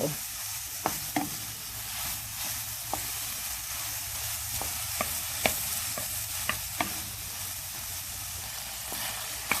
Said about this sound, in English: it's been 5 minutes of stir frying this gourd or ampalaya